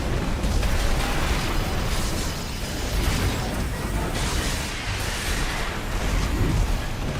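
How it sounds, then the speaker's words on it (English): Alpha missiles exploding in the mech combat game Armored Core VI, a dense, continuous roar of blasts and mechanical rumble lasting throughout without a break. "alpha missiles."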